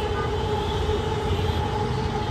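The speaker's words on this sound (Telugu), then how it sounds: "మళ్ళీ మెట్రో ట్రైన్ వెళ్తుంది చూడండి." A metro train at Uppal metro station passes with a continuous steady rumble and a faint high whine, heard alone throughout.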